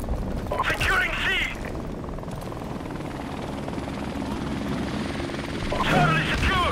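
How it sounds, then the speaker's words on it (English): A friendly helicopter in the game Call of Duty Modern Warfare Remastered, heard as a steady rotor-and-engine drone throughout, with short bursts of voice chatter at the start and again near the end. "Friendly helicopter on the way."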